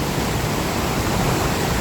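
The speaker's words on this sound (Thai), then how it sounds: "ก็เลยได้บรรยากาศแบบนี้ ที่น้ำตกเหวสวัสดครับ" At Haew Suwat Waterfall, a steady broadband roar of falling water rushes on without a break, loud and close.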